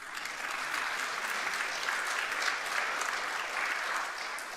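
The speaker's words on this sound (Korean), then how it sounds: "박수 한번 하세요." Congregation applauding during a Sunday church service at Laguna Hills Church, a steady, dense wash of clapping that holds evenly for several seconds with no talk over it.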